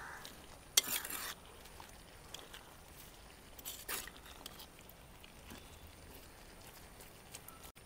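Onions stirred in a pan for a Kerala village-style beef fry. A spoon scrapes with a few clinks and a soft sizzle underneath, and there are brief louder scrapes near the start and around the middle.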